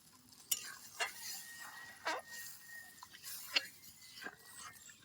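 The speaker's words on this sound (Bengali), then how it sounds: "মশলার মধ্যে একটু দিয়ে দেব মাছের ঝোল" Fish broth poured into frying spice paste for a cashew-paste prawn dish, with a soft sizzle under repeated spoon scrapes and clinks against the pan, fairly quiet and close.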